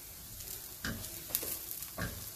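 Eggs frying in a pan during meal prep, a soft steady sizzle with a few louder bursts of spatula scraping and stirring, close up with no talking.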